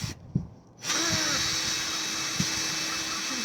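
A drill bores a tap hole into a maple tree, running as a steady, close, continuous whir after a brief start, with faint low knocks and no talk over it.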